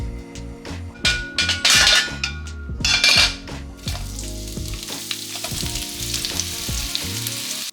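Onions frying in a pan, a close crackling sizzle with bursts of louder spitting and clinks of utensils stirring against the pan.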